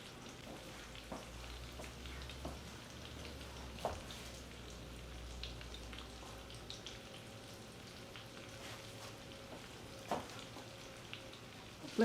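Chicken cordon bleu browns in a skillet with a steady, quiet sizzle and crackle of frying, faint scattered pops and light clinks over a low hum, no one speaking.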